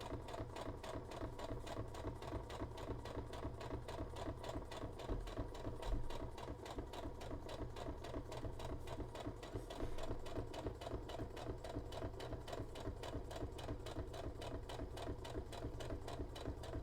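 A sewing machine runs steadily for the whole stretch, stitching a very small seam with a fast, even mechanical chatter at close range and no voices over it.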